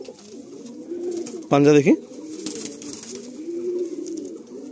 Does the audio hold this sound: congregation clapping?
no